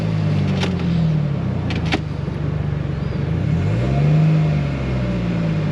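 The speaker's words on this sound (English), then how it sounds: "It definitely only goes in reverse." A car's engine runs steadily in a repair shop while the car, with a fault that leaves it moving only in reverse, backs up. The engine note rises and falls as it revs, with a couple of brief clicks early on.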